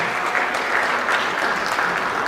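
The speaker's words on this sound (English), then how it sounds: "So I would like to please give a round of applause for Linda Lee to making it happen." An audience at a Pakistan Independence Day event applauds, a thick, even wash of clapping that stays constant from start to finish.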